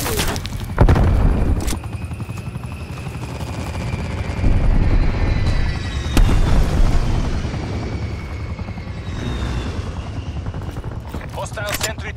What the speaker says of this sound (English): Enemy attack helicopter above.